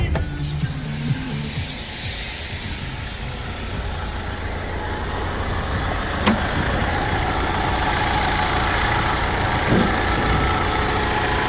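A 2012 Mercedes-Benz van engine with 120,000 km idles steadily with a low, even rumble and some mechanical clatter, running continuously and close by with no voices.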